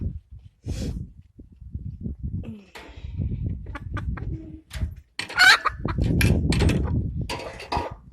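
Hens, including a Silkie, cluck and squawk up close in short irregular bursts, mixed with rustling, clattering handling noises and a louder flurry of calls near the end.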